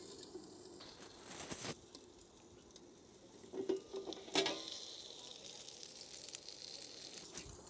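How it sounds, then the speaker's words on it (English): Food frying under a lid on a Fox cook station, a soft, steady sizzle with a few louder scraping and clattering bursts from handling nearby. "So now they're cooking"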